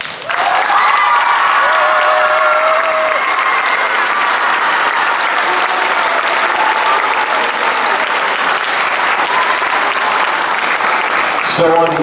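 Sustained, loud applause from a crowd of students and staff at an intermediate school assembly honoring a staff member, steady clapping that continues for the full stretch with cheering mixed in.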